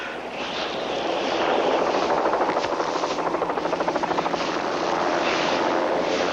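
A helicopter's rotor thumps steadily throughout, a loud, continuous chopping drone with a rhythmic pulse that swells slightly midway.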